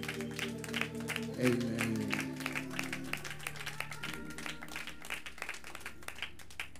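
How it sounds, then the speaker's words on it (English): A church congregation at a funeral homegoing service claps in a steady rhythmic beat over sustained organ chords, with a voice calling out briefly near the start. "Can we put our hands together and encourage this family?"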